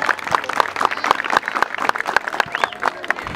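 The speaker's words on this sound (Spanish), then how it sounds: "un fuerte aplauso para la Fundación River Plate." Scattered, sharp claps from a small crowd of adults and children at a River Plate Foundation visit to a neighborhood sports venue. The claps come as distinct separate hits over a light background murmur.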